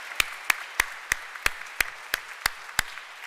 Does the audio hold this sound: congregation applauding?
yes